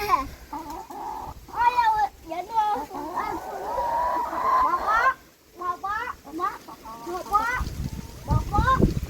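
Chickens cluck and squawk in a noisy, overlapping chorus up close, with honk-like calls mixed in and some voices nearby.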